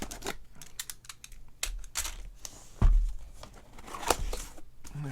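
Stubborn packing tape is pulled and peeled off a fan box, making repeated sharp crackly rips and rustles in irregular bursts, close up, with one heavier thump midway.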